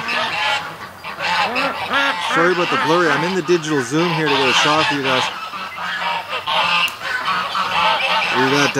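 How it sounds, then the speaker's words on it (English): Three geese honk in a quick run of loud, nasal calls close by amid fighting, while someone talks over them. "But we got 3 geese now. Now there's been some fights because I keep seeing them fighting."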